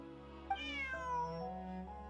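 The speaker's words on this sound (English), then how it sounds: "Bonnie is Pierre's cat." A cat meows in Genshin Impact, one drawn-out, rising and falling meow lasting about a second and a half, heard clearly and alone with no talk over it.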